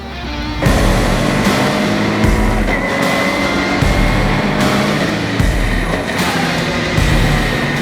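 Ginetta race cars compete in a GT Academy race, heard as a loud, close, continuous engine roar from on board with a sharp rise at the start and repeated gear-change dips and surges.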